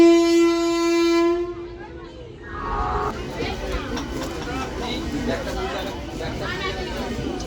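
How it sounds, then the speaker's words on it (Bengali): A train pulls out of Howrah station, its horn blaring in a long steady tone before giving way to rumbling wheels and carriage noise, with a crowd murmuring nearby. "পারফেক্ট টাইমে ট্রেন ছাড়লো 12টা 15"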